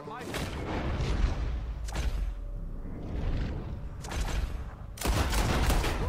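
Gunfire in Red Dead Redemption 2, loud sharp shots and booming blasts in several bursts, close and echoing, with a voice speaking between them.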